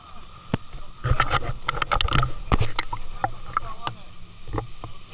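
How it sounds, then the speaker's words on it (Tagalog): Small motorboat carrying divers out to a dive spot off Boracay, its motor and water slapping against the hull forming a steady wash, with bursts of knocking and splashing in the middle and voices faintly mixed in. "Sumakay na kami ng bangka going to the diving spot."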